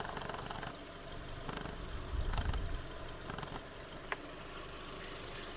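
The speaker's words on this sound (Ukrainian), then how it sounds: "Мотор тихесенько працює взагалі." A 2009 Skoda Octavia A5 with a 1.6 MPI petrol engine idles smoothly and quietly up close, a low steady hum with a brief heavier swell midway and a single faint click.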